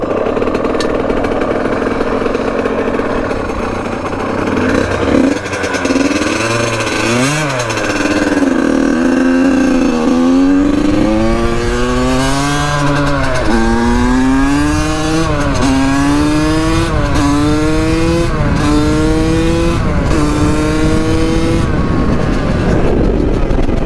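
A Yamaha YZ85 two-stroke dirt bike engine runs loud and close, its pitch climbing and falling through a series of repeated revs over steady idle chatter, with no talking.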